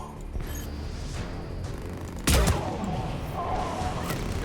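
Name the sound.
gunfire from the video game Mass Effect 3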